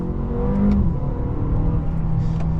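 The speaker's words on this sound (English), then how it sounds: "Hear that engine?" A 2025 Mercedes CLA 250 revs its engine in manual mode, a loud close mid-pitched roar that rises briefly, then settles into a steady rumble with a faint whir.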